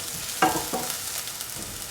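Onions sautéing with chilies and garlic in a pan until golden brown for a mushroom and ash gourd stew, a steady close sizzle with a couple of brief scraping stirs near the start.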